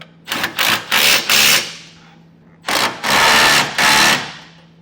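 A 3/4 inch socket tightens the hitch hardware on a B&W Companion 5th wheel hitch in a 2023 Chevrolet truck, coming as loud, close bursts of rapid hammering in two groups separated by a short pause.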